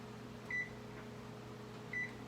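An oven control panel gives two short electronic beeps about a second and a half apart while preheat is set to 350, heard over a low steady kitchen hum.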